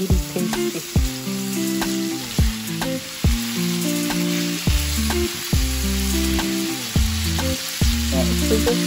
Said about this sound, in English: just fry in about 3 minutes on each side